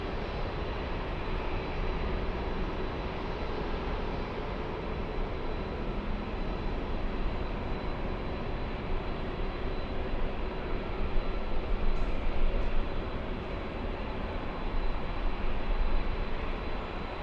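SkyWest airliner at LAX on the runway for takeoff, a loud, steady broadband engine roar holding constant throughout with a slight swell near the middle, no voices.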